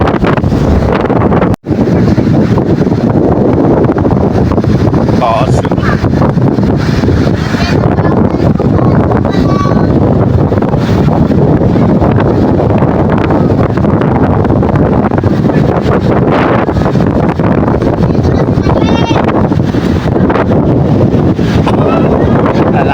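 Strong sea wind buffets the microphone in a constant loud roar, with rough waves surging around a boat, and faint voices occasionally breaking through the noise.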